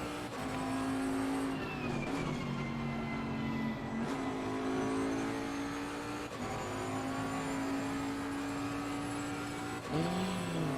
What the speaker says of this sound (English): I do love the sound of this engine